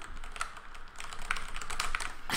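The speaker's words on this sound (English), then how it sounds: "We hit some keyboard keys." Computer keyboard keys are pressed in a quick, irregular run of close, crisp clicks, with a final louder tap at the end and no voices over it.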